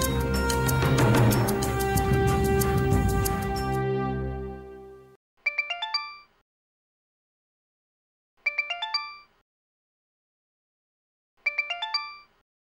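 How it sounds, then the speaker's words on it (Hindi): A loud jingling melodic ringtone plays for several seconds, then a bright descending chime repeats three times with pauses between. "फोन लगा के पूछ लेता"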